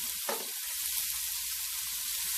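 Thin-sliced Steak-umm meat sizzling in hot grease in a pan, a steady close hiss of frying with a brief louder burst near the start as food goes in.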